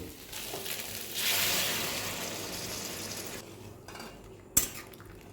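Soybeans stirred into spice masala in a pan make a soft scraping, shuffling sizzle with scattered clinks of a utensil, ending in one sharp metallic knock against the pan.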